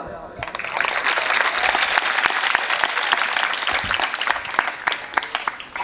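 An audience claps steadily for a village women's group during a Shiv Jayanti lecture, a dense, sustained round of applause that stays fairly loud throughout.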